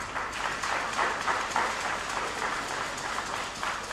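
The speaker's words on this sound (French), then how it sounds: "le professeur Victor Topano, que je vous demande d'applaudir très fort" An audience at a community forum in Benin applauds loudly on request for a professor, a sustained, even roar of many hands clapping at middle distance with no talk over it.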